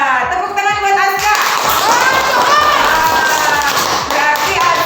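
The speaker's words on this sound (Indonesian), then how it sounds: "Tepuk tangan buat Aska." Schoolchildren in a classroom clap for a classmate, with a dense, rapid patter of small hands close by under excited children's voices and a teacher's voice at the start.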